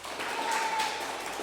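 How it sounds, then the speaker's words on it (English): Audience applause at a school annual day event: a steady, fairly quiet wash of many hands clapping that lasts about a second and a half. "Everyone give him a round of applause"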